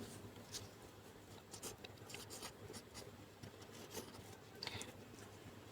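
Pen writing on paper, quiet scratchy strokes in short intermittent bursts against a faint steady background hum.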